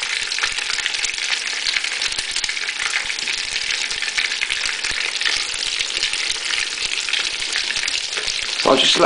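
Torrijas frying in a pan, bread soaked in egg, give off a steady, dense sizzle that holds evenly throughout, close and moderately loud with no voices.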